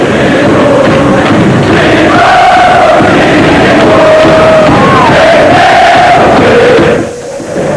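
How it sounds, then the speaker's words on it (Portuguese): Cruzeiro football supporters erupt in loud, sustained roaring, chanting and whooping as the team arrives at the Belo Horizonte airport arrivals hall after winning the 1992 Supercopa, a dense crowd noise that dips briefly at the very end. "Assim que os jogadores apareceram na sala de desembarque, a torcida foi à loucura."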